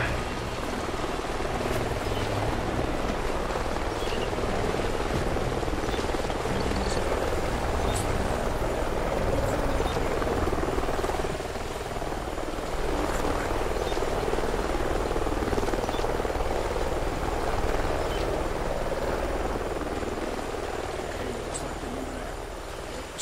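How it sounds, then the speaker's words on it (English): A helicopter's rotor chop and engine drone in Call of Duty: Ghosts hold steady and fairly loud, with scattered clanks and rustles on top. "Sounds like a chopper's up ahead of us."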